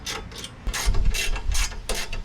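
A hand ratchet tightens bolts with nylon lock nuts while mounting a DIY roof rack on a Nissan Xterra, giving quick clicking bursts of pawl ratcheting in several short strokes, close and clear with no speech.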